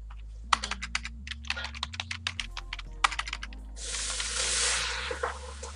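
Typing on a computer keyboard while entering a radius value into a math calculator tool, a quick run of close, crisp key clicks in bursts with short pauses, then a broad hiss toward the end.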